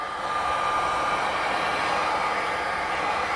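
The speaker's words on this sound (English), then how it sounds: "Because this is an industrial proper heat gun, I don't have to apply a lot of heat" An industrial heat gun blows hot air onto the display of a Sony Xperia Z3 during an LCD screen replacement, making a steady, loud, even hiss of rushing air that runs unbroken throughout.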